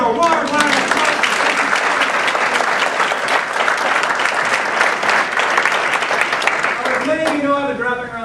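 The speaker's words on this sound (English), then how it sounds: "give them a warm round of applause" An audience at a leadership presentation breaks into warm, dense applause that stays loud and even for several seconds, then starts to fade as a voice begins speaking near the end.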